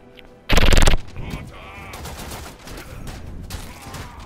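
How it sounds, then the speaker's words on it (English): A rapid-fire submachine gun in the video game Warframe lets loose a loud, dense half-second burst of shots, followed by quieter ongoing combat noise and scattered game effects. "Oh, this gun's good. A rapid fire submachine gun."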